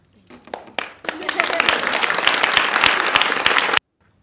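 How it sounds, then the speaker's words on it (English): A crowd clapping and cheering in a legislative hearing room in Massachusetts, a burst of dense, loud applause that swells quickly, holds steady for a few seconds, then cuts off abruptly. "They were clapping and smiling and celebrating like this was some great accomplishment."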